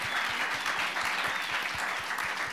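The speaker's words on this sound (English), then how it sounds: "round of applause" An audience at a consumer engagement panel gives a round of applause, a sustained dense crowd clapping with some individual claps standing out, moderately loud and even throughout.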